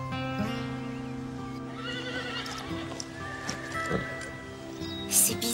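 A show horse neighs in a long, wavering whinny at moderate distance, with hoof clip-clops and faint rustling underneath.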